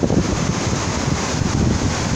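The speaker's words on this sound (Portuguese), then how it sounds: "Olha essa cachoeira." Steady roaring rush of a waterfall on a full river, broad and continuous at close range with a gusty wind-like quality, no voices over it.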